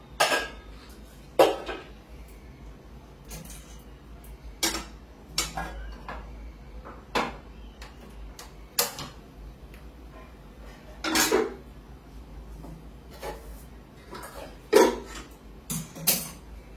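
A bowl crusted with skin from boiled milk is handled and washed, giving scattered clinks, knocks and clatters of dishware at close range with quiet gaps between them and no talk.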